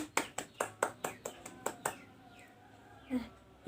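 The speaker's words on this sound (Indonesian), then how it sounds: "Beri tepuk tangan untuk Mbak Yuni." About eight sharp, evenly spaced hand claps ring out in a classroom, loud and close, then stop, leaving a quiet room with faint sounds and brief speech near the end.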